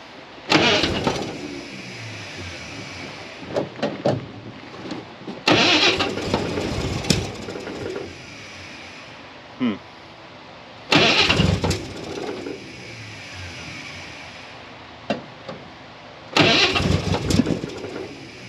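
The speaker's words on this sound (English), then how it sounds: "Okay, ignition on." A car engine repeatedly cranking after the ignition is switched on, with several separate start attempts that sputter briefly and fade, heard up close.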